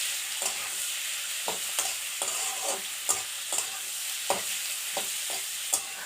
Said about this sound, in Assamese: এয়া পাৰ মাংস এতিয়া ভাজিম এতিয়া।